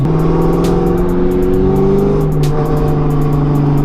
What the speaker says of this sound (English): I cannot get enough of that exhaust tone.